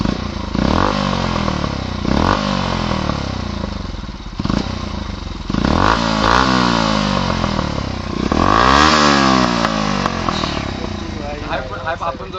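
A motorcycle fitted with an aftermarket STX exhaust silencer revs hard at a petrol pump, with repeated loud rising and falling throttle blips close by, ending in a long high rev, while people talk over it.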